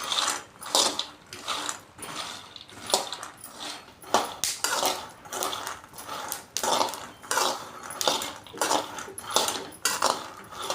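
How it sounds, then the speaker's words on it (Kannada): Peanuts dry-roasting in a pan for a Nag Panchami groundnut laddu, stirred steadily so the nuts and spoon scrape and rattle against the metal in quick rhythmic bursts, close and fairly loud with no talking. "ಶೇಂಗಾ ಕೆಂಪಾಗುವ ತನಕ ಹುರ್ಕೊಳ್ಳೋಣ ಶೇಂಗಾ ಹುರಿದ ಮೇಲೆ ಚಟಪಟ ಸದ್ದು ಬರುತ್ತದೆ"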